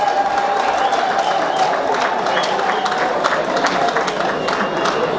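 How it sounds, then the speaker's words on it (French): Audience at a public gathering applauding for President Félix Antoine Tshisekedi, steady sustained clapping with crowd noise throughout, fairly loud and without pause. "Est-ce que nous pouvons encore applaudir pour le président Félix Antoine Tshisekedi?"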